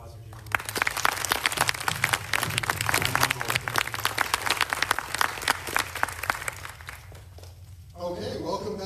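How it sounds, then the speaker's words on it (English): Audience at a Canadian government space strategy event applauds in a dense, sustained burst of clapping that fades near the end as a voice resumes speaking. "Can we get a round of applause for Jeremy?"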